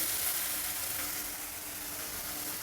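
Ingredients for chitranna fry in a hot pan, giving a steady, close, fairly quiet sizzling hiss that runs without a break and with no talking.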